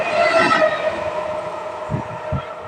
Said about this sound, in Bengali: बनगा टू शियालदा जाने वाली ट्रेन आ रही है